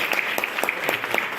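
An audience at a business plan presentation claps briefly, a quick burst of dense, even applause heard alone at moderate volume.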